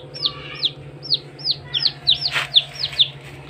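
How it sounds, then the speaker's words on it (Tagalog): Newly hatched chicken chicks, healthy and hatched without a hatcher, peep in a steady run of about ten high, clear chirps, close and distinct over a low constant hum. "healthy naman po yung mga sisiw"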